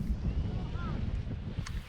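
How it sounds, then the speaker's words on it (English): Strong wind buffets the microphone on a beach along the Jurassic Coast, a steady low roar with gusty surges, and a voice speaks briefly over it. "A little bit windy, I must say."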